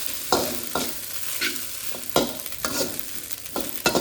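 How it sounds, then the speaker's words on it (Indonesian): Fried rice sizzles in a hot pan while a spatula stirs and scrapes through it in repeated sharp strokes. The scraping is close and loud over a constant background of frying. "Goreng lagi, goreng."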